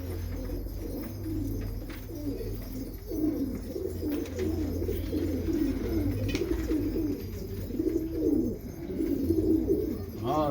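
Pigeons of a tumbler breed coo in soft, repeated rolling phrases at close range, with faint chirps and a low hum behind them and no speech.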